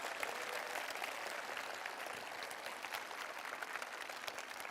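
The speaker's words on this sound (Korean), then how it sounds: "여러분 박수 한번 부탁드리겠습니다." A talk-concert audience in Seongnam gives a round of applause, a soft, distant wash of many hands clapping evenly for several seconds with no voices on top.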